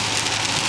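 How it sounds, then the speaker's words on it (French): Heavy rain drums steadily as a dense broadband hiss, with a low engine rumble beneath it from a car whose engine has lost its compression. "il m'a l'air qu'il pleut très très fort en plus"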